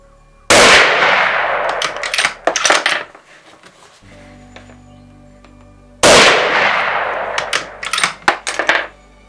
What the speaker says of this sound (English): I'll now shoot dead at the centre of the target again, and we'll see if that's worked.